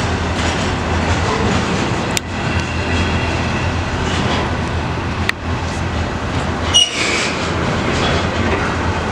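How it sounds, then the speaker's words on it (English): A new Siemens-built VIA Rail passenger train set from Quebec City roars past close by on the Mont-Saint-Hilaire line, steady rumble and wheel clatter with a few sharp clicks and a brief squeal. "I think it's a Siemens train. It's a new train set."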